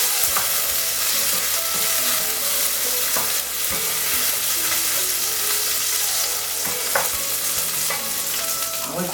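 Steady sizzling of Sichuan hotpot base frying in a pan, with a utensil scraping and clinking as it's stirred, close up and continuous.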